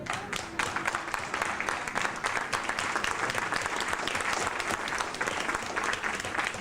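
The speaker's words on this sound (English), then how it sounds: "Don deserves not only an applause from this group" An audience gives Don a steady round of applause, with dense, even clapping that keeps going at an unchanging level the whole way through.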